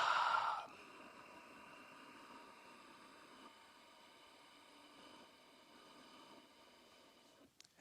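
An ujjayi breath is pushed out through a constricted throat with the lips closed, a soft, airy, ocean-like hiss that starts stronger for a moment and then trails on faintly and evenly for several seconds.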